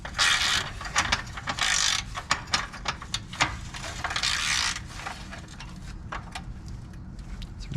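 A ratchet turns a short bolt on a 2001 Miata 6-speed transmission during a rebuild, giving a steady stream of close clicking pawl sounds with some creaks and intermittent louder bursts.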